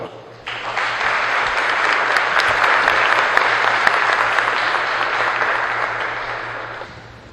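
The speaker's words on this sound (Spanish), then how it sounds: "Lo recibimos con un fuerte aplauso." Audience applause welcoming a lecturer to a conference talk, swelling quickly into a strong, even round of clapping from the crowd that holds for several seconds before tapering off.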